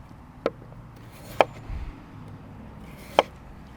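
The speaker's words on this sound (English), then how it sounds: "You can make French fries by cutting slices like this." A knife cuts slices from a potato on a cutting board, giving three sharp, isolated chops against the board, spaced about a second apart over a quiet room background.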